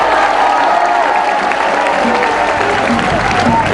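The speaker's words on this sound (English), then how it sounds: "let's give our judges a round of applause" Audience applause for the judges at the final of a televised debating competition, a steady dense wash of clapping that fills the whole stretch at a loud, even level, with faint voices mixed in.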